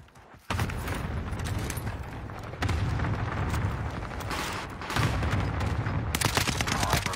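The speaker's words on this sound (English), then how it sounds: "Cluster strike is active." Cluster airstrike explosions in a video game: a rapid run of dense, booming blasts that hit in heavy waves, loud and close, rolling on continuously with brief surges of fresh impacts.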